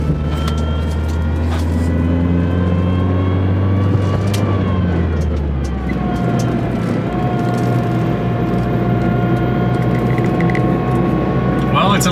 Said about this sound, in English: Power steering pump sounds horrible.